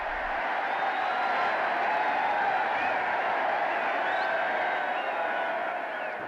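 A large outdoor crowd at Queen Elizabeth's coronation, greeting her on the palace balcony, gives off a steady, distant roar of cheering and applause that holds level throughout.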